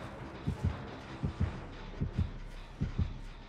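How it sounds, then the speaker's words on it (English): The killer's heartbeat in the video game Dead by Daylight thumps in four steady double beats, low and muffled, repeating at an even pace with no talking over it. "I do hear the heartbeat, though."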